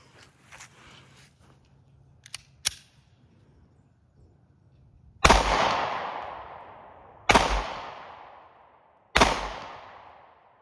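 Three loud, sharp pistol shots from an M&P Shield 40 fired at cinder blocks outdoors, evenly spaced about two seconds apart, each with a ringing decay, after quiet handling clicks and rustles.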